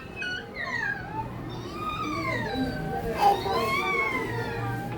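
A person imitates a cat with a run of drawn-out, wavering meows that rise and fall, close and fairly loud, one after another for several seconds.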